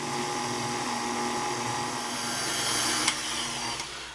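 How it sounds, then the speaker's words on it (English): Stand mixer with a paddle attachment beating pumpkin roll batter, a steady loud motor whine with a high grinding edge, plus a couple of brief clicks near the end. "with our paddle attachment on here, we are going to go ahead and mix this up really nice"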